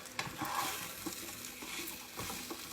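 Meat browns in a pot for corn and shrimp soup while a spoon stirs it, a steady close sizzle and fry with soft scraping and clacking strokes against the pot, no talking.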